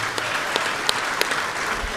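Audience applause following a jiu-jitsu match at a live grappling invitational, a steady broad wash of clapping with a few sharper individual claps standing out, fairly close and with no talk over it.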